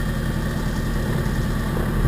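The left engine of a Diamond DA42 aircraft idles steadily after startup, a constant loud droning hum with no other sounds over it.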